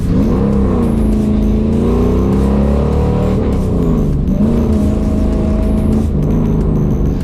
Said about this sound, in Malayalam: ഡ്രൈവ് ചെയ്യുമ്പോൾ വരുന്ന ആ V8 എഞ്ചിൻ്റെ ശബ്ദം